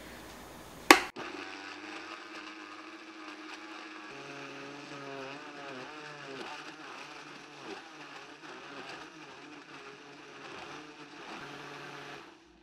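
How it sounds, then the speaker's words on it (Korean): A Vitamix blender set to about power level 5 whirs steadily after a sharp click of switching on, its motor tone shifting slightly as contents churn, moderately close and continuous with no talking. "와, 진짜 나 이런 믹서기 처음 봐. 얘 괴물이야, 진짜."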